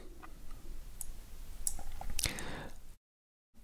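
Computer mouse clicking a software button, heard as a few faint sharp clicks over quiet room tone, ending in a brief silence.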